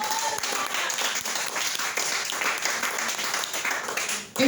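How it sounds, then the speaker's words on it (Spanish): A church congregation applauds for Christ, a steady dense burst of many hands clapping for several seconds, fairly close and continuous, cutting off abruptly at the end. "Brinde un aplauso para Cristo"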